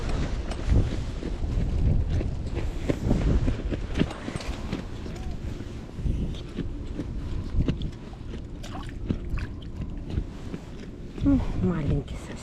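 Strong wind buffets the microphone at a carp fishing spot during a stormy day, a steady loud rumbling roar throughout with a voice talking over it.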